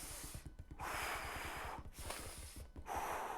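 Deep breathing through the nose during core bracing, three close, loud inhales with brief pauses between them, audible snorting air noise with no talking.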